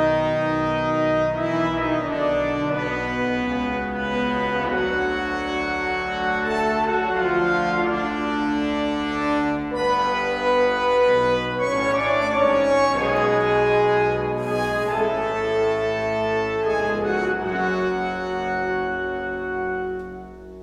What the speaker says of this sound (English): let's just listen to the brass.